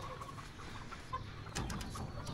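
Red Kelso cross chickens cluck faintly against a steady outdoor hiss, with a cluster of louder scratchy clucks near the end and no one talking.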